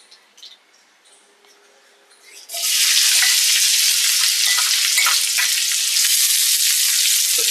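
Chopped onion hits a hot pan with curry leaves and bursts into a loud, steady sizzle that holds without a break, following a few seconds of quiet clinks while preparing Kolhapur-style prawn masala.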